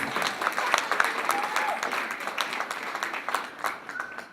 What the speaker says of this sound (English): Give it up for all of the acts previously, guys. Big round of applause.